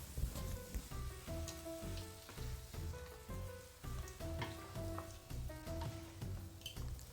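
Quail meat and onions sizzle and fry in a pan as they are stirred, a steady crackling hiss with small pops and the scrape of stirring, heard close up with no talking.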